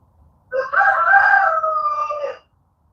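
A homestead rooster named Peter lets out a single full cock-a-doodle-doo crow, loud and fairly close, rising then drawn out for about two seconds before cutting off into quiet.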